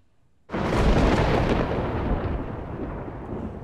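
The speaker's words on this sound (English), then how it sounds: "It's just a storm." A sudden loud thunderclap from a storm bursts in and rolls on as a long, heavy rumble that slowly fades, with no voices over it.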